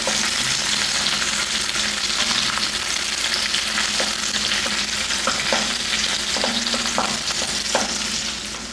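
Sliced onion fries on high flame for capsicum fried rice with a loud, dense, continuous sizzle, while a few light stirring scrapes come through in the second half.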